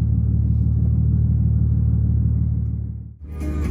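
Nissan Skyline R33 cruising on a road trip, a steady low engine drone and road rumble from inside the car that dips sharply near the end before picking back up.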